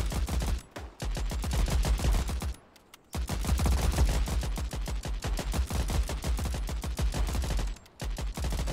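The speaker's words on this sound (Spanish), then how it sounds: "¿Cómo me pueden estar disparando si estoy detrás de unas rocas, tío?" Dense, continuous gunfire in the Ratten Reich video game: rapid volleys of shots crack almost without pause, briefly dropping out twice before resuming at full loudness with no talking.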